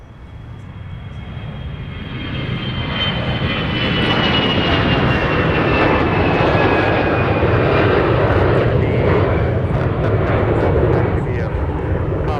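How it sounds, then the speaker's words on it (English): A fixed-wing airliner departs Minneapolis–St. Paul airport, its engine roar building steadily from moderate to a loud, sustained broadband rumble with a faint high whine. "There's actually a few more departures that'll be filing their way out of the Twin Cities"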